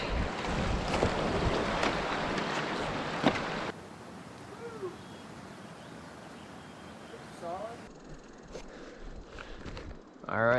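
Rushing water at a mountain creek crossing near Snowmass Lake in Colorado, a steady broadband wash mixed with gusting wind on the microphone, loud at first and then settling into a quieter, continuous flow.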